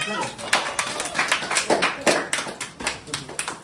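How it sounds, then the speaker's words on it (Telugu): A group claps in rhythm at a birthday celebration, the close, fairly loud bursts repeating steadily under chatter and children's voices. "అందరు క్లాప్స్, అందరు చప్పుడు పెట్టాలి."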